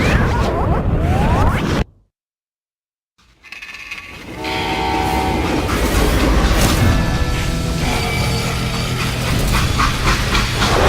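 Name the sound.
train running on rails in video game Call of Juarez Gunslinger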